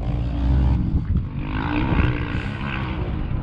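A Yamaha Raptor 700 quad at an enduro gravel pit, its engine intake roaring loud and close in a continuous, dense rumble with slight rises and dips throughout.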